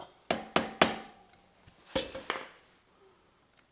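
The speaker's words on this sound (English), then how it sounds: "put your flathead screwdriver right here and just take a hammer or rubber mallet." Sharp metallic hammer taps on a flathead screwdriver forcing off a motorcycle chain clip on a DRZ400S, three quick strikes then a pause and a few more blows, close and clear with faint clinks in between.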